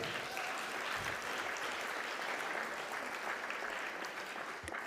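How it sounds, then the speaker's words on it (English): A round of applause from a conference audience fills the hall, steady dense clapping throughout at moderate distance with no voices on top. "Can we give him another round of applause?"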